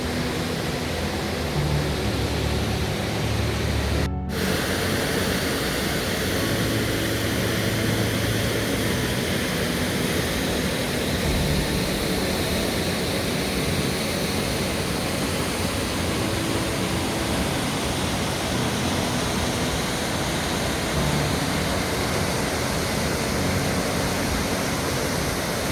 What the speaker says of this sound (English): Here the waters burst out from every side, filling the air with a deep, powerful sound.